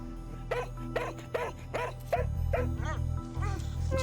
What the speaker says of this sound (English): she turned and barked and found someone to follow her back